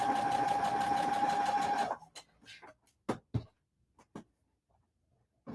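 A sewing machine stitches quilt blocks in a fast, even whir for about two seconds, then stops, leaving a few scattered clicks and light handling taps.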